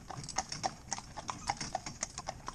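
Horse hooves clip-clopping on a road during traffic training, a brisk, even run of crisp near hoof strikes that continues without pause, with no talk over them.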